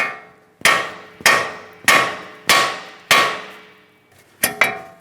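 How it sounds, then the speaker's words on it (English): A hammer strikes a car's steel steering knuckle seven times with sharp, ringing clangs at a steady pace, the last two in quick succession, loud and close. "we want to lightly tap along the steering knuckle, causing vibration"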